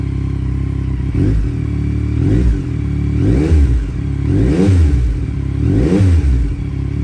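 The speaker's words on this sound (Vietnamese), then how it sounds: "cảm giác khi mà dặn ga đó nó phản hồi lên rất là tốt nghe cái tiếng máy nó lên ngọt hơn" A 2022 Yamaha MT-09 motorcycle engine is revved five times in quick succession, each throttle blip rising sharply then dropping back to a loud idle.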